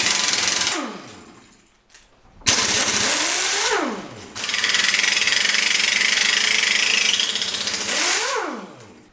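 An impact wrench rattles loose the sump cover bolts on a Briggs & Stratton snowblower engine. Several loud, sustained bursts sound close by, each winding down with a falling whine, and short pauses separate them.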